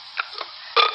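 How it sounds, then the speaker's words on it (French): A short, loud burp stands alone, preceded by a couple of soft, small belch-like gulps before the main eructation bursts out near the end. "Après tout, ce n'était qu'un petit rot."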